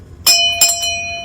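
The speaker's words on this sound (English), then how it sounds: "ring that notification bell so you'll know when the next episode is up and running" A notification bell chime rings out loud and close: a bright struck tone followed by two quicker strikes, each leaving a clean, sustained metallic ring.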